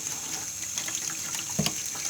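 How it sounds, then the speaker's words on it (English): Tap water runs steadily into a sink while a fidget spinner is rinsed, a continuous close hiss with a brief splashy surge near the end. "I'm gonna wash it again just to be sure I got all the extra water out of there"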